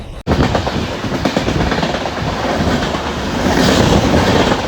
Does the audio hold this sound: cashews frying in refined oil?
no